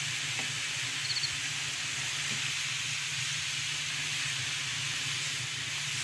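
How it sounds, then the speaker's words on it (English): Curry leaves frying for a no-oil mutton curry, giving a steady broadband sizzle and hiss that holds evenly throughout, with a faint low hum beneath and no voices. "Now also our curry leaves. Now fry it."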